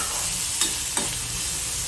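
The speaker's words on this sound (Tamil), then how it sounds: "நல்லா வதக்கிக்கோங்க." Chopped onions and curry leaves sauté in a pan for a black chickpea dish, with a loud, steady sizzle and two quick scraping stirs, close by and with no talk.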